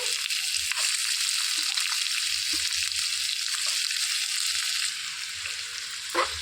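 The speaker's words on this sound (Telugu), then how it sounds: "ఇందులో సన్నగా కట్ చేసి పెట్టుకున్న ఉల్లిపాయలు వేసేసుకోవాలి." Thinly sliced onions fry in hot oil for a green leafy curry, giving a loud, continuous bright sizzle close by with a few faint clicks of a stirring spoon and a brief knock near the end.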